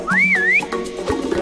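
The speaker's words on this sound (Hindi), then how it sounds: "सीटी बजा रही है" A cartoon whistle from a monkey-and-elephant children's story rises and dips in a single bright, clear phrase lasting about half a second, followed by quieter background sounds.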